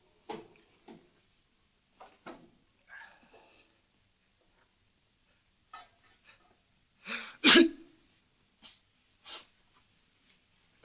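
A woman sneezes in a film scene, with short snorts and breaths before a single loud, close sneeze, then a few quieter sniffs and throat sounds in an otherwise quiet room.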